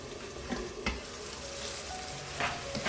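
Shrimp in garlic sauce simmering under a lid in a pan, giving a steady soft sizzle and bubbling with a few faint clinks, no voices.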